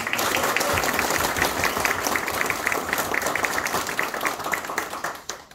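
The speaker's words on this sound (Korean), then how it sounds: "이분들을 위해서 박수 한 번만 좀 부탁드립니다" Applause from an audience at the launch ceremony of a Democratic Party youth committee in Busan: dense, sustained clapping that holds steady and then tapers off toward the end.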